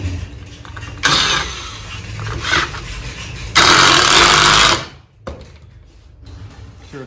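A power drill whirs in two bursts, each lasting a second or more, while countersinking a screw hole in the wood of a barrel-style chair, loud and close with quieter pauses between and no speech.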